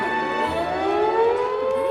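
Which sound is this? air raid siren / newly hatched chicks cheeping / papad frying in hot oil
air raid siren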